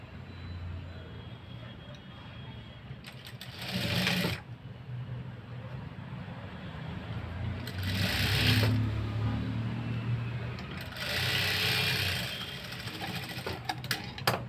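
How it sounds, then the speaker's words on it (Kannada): Sewing machine stitching a blouse hook strip, running in bursts of close mechanical whirring with pauses between seams, with a steady low hum underneath. "ಮತ್ತು ಹಿಂಗೆ ತಿರ್ಸ್ಕೊಂಡು ಒಂದು ಸ್ಟಿಚ್ ಹಾಕ್ತೀನಿ"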